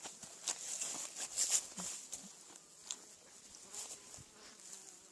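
Honey bees buzz close around a beekeeper at a hive, their high drone rising and falling as individual insects zip past near the ear.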